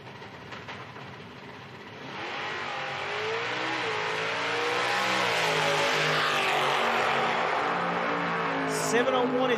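A 2015 Camaro in stock-class qualifying at an IHRA drag strip roars off the line, its engine swelling from a steady idle into a loud rising howl that stays strong to the end, with a track announcer talking over it.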